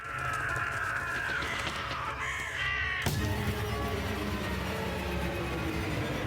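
A crow caws repeatedly in the horror video game True Fear: Forsaken Souls, its harsh calls sitting over a steady, droning ambient game soundtrack, with a sharp burst midway.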